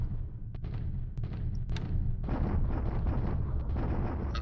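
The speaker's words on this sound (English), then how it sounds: "Bombardment at Surabaya." Bombardment sound effect in the War in the Pacific naval strategy game, a series of dull booming artillery blasts followed by a sustained rumbling barrage, loud and continuous with no voices.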